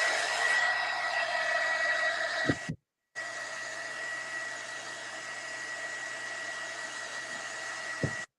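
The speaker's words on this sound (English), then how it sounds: "Let me give a quick dry and let's see the difference between them." A hair dryer blows steadily to dry Pentart varnishes, a loud continuous whooshing hum that cuts off briefly and then starts again with clicks as it switches.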